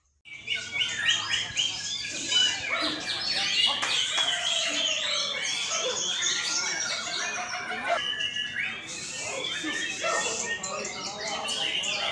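Young white-rumped shama (murai batu) calling close by, a dense, continuous run of bright chirps, whistles and trills with barely a pause.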